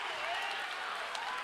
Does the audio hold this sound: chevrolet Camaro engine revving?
no